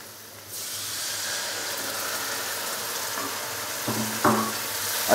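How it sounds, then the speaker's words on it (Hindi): Spice masala with coriander and yogurt fries in a pan for chicken liver, a loud, steady close sizzle with a few stirring scrapes near the end and no speech. "और मसाले को 1 से 2 मिनट के लिए भून लेंगे।"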